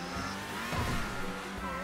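A car test-driven in GTA Online, its engine droning steadily with a brief tire squeal or skid midway, fairly quiet and with no one talking.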